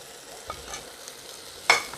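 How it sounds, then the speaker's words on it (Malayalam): Clam meat is stirred in a pan with chili powder, garam masala, pepper and turmeric: a soft, quiet scrape and faint sizzle with scattered light taps and one sharp metallic clink near the end. "നന്നായിട്ടൊന്ന് മിക്സ് ചെയ്യാവേ"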